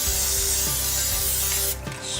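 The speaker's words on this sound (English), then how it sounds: "I'm going to take a little extra virgin spray oil." An extra virgin cooking oil spray can gives a steady hissing spray with a continuous broadband rush for most of the clip, then it cuts off and a softer hiss follows.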